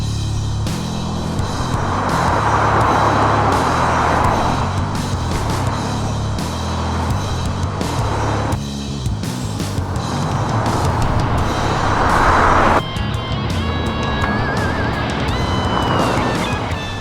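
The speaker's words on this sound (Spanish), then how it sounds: "os he traído un diésel. ¿Escucháis cómo claquetea?" A Peugeot 308 diesel engine idles with a continuous close, loud clattering drone that holds steady throughout, with occasional sharper knocks and a brief shift in tone near the end.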